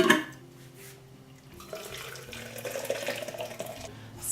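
Just-boiled water is poured from a jug into a cup to make coffee, a soft, steady liquid stream rising slightly in pitch as the cup fills over a few seconds, close and fairly quiet.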